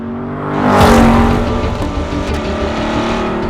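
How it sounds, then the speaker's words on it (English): A Chevrolet Corvette C8 with a Borla exhaust roars loudly as it revs up and shifts through the gears, the engine note rising and falling in a quick, close burst. "tapping through the gears and bringing your revs higher and higher, it's kind of like a symphony"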